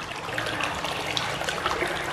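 A water spout pours steadily over a sedated koi fish, a continuous close splashing gush lasting a couple of seconds.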